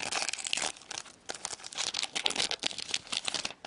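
Crinkly foil wrapper of a 2013-14 Upper Deck Artifacts hockey card pack is torn open by hand, a busy run of sharp crackles and rips over a few seconds, close and alone.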